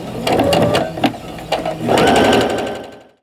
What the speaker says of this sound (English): All I do is I just line up my points, put them together, and just start sewing.